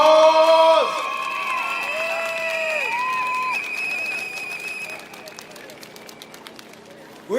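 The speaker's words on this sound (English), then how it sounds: "Let's give him a big applause." A rally crowd welcomes a speaker with voices cheering and whistling, then the noise thins to scattered claps before a fresh swell at the very end.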